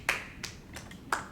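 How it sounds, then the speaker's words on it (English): A few hand claps at a financial fitness presentation, four sharp separate claps spread unevenly across a quiet room. "Why you clapping?"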